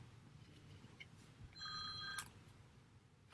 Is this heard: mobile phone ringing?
yes